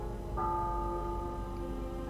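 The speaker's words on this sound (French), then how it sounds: "Je vous laisse écouter les cloches de l'université." University church bells in a horror card game setting at Arkham ring a single soft, sustained tone that hangs and slowly fades over a low background hum.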